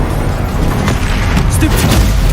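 Confringo fire-blast spell in the Hogwarts Legacy game detonating amid a dense, loud rumbling clamor of combat, with voices and effects layered over a steady low boom.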